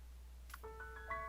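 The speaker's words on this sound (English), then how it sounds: "The lovely little chimes telling me I'm home." Soft video game chimes mark the arrival home: a small click followed by a few gentle, sustained bell-like tones that ring out quietly over a low background hum.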